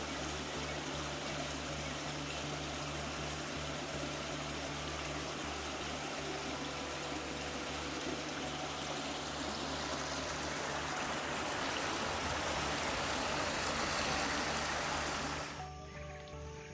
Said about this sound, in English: Sound of the water is so relaxing.